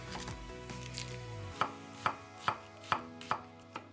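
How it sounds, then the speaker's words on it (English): A knife slices through half a medium onion on a cutting board, giving about six crisp, evenly spaced taps after a brief low rumble, close and clear with no voices. "Take half a medium onion and slice."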